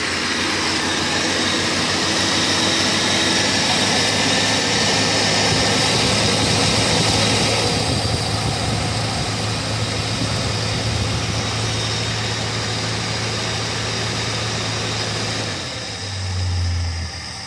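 A 1974 Dodge Dart engine, freshly woken after five years of sitting, runs at a steady fast idle, loud and close with a constant roar that eases slightly toward the end.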